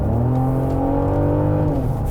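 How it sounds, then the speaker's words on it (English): A 2024 Genesis GV70 SUV in Sport mode accelerates, its engine note a steady, smooth drone rising slightly in pitch, heard from inside the car for about two seconds. "if you flick it into Sport mode and put your foot down,"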